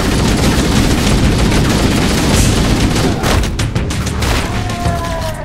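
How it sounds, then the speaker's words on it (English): Gunfire and explosions in Halo: Combat Evolved rumble and rattle loudly, with dense, sustained booming and rapid bursts of shots, followed by a few sharper crackling reports near the end. "Headshots and explosions for days."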